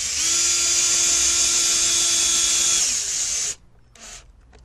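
A power drill drives a screw into a wooden Vegtrug planter, a steady high whine running for about three seconds before cutting off, followed by a brief softer burst near the end.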